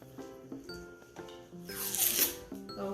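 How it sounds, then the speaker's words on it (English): Scissors snip through a paper streamer while making CD sun catchers, a few quiet close cuts followed by a longer, brighter swish of the blade near the middle. "then I'm just going to split it to there and use the scissors"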